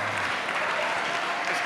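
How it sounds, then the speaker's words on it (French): Gala audience at a charity evening clapping loudly, a thick, continuous wall of applause from a large room that holds steady for its whole length. "On peut les applaudir très fort."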